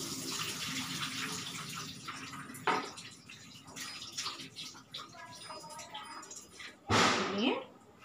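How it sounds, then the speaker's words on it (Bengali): Water from soaked oats being strained, with running, splashing liquid at a moderate level, interrupted by pauses and a louder pouring burst near the end, while a voice talks over parts of it. "এই যে ওটসটা আমি জল দিয়ে ভিজিয়ে নিয়েছি, এবার এটাকে আমি ছেঁকে নেব।"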